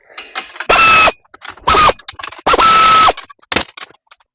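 A ratchet snugs up bolts on a new top bracket fitted to a ladder tube, heard as four loud bursts of rapid mechanical clicking separated by short pauses and a few lighter clicks, close to the mic with no talking.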